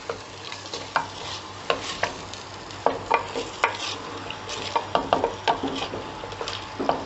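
Whole green chillies tossed into mutton kunna sizzling in a pot, with a constant frying hiss under repeated spoon-against-pot stirring clatters spread across the whole stretch, fairly quiet and close, no talking.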